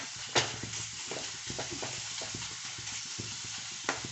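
Mawa roasting in ghee in a pan for Holi mawa gujiya, stirred continuously: a steady close scraping and soft sizzle with repeated spoon strokes and a couple of sharper knocks, no voices.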